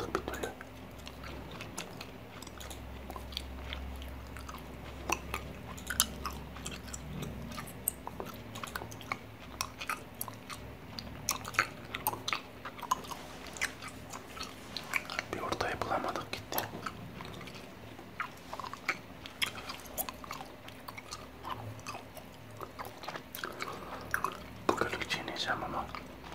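Gum chewing sits close to the microphone, soft wet smacks and clicks running steadily under quiet whispered Turkish talk, with the faint hum of a truck driving game in the background.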